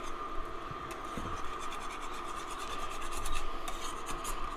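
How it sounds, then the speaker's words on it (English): Colby Jack and Parmesan cheese stirred into cooked broccoli, giving a continuous close scraping and rubbing of utensil against the pan, soft and steady, with no speech. "Just gonna stir in the cheese."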